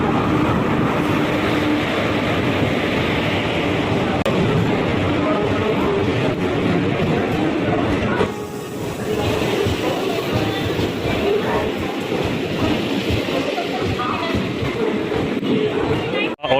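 The Mangala Lakshadweep Express rolls into platform 1 of a junction, a continuous loud rumble with clickety-clack of wheels over rail joints and a brief dip partway through, with faint voices mixed in.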